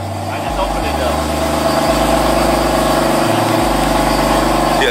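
A BMW engine fitted with a catless downpipe idles while warming up, a steady close low drone with shifting exhaust tones throughout and some talk nearby.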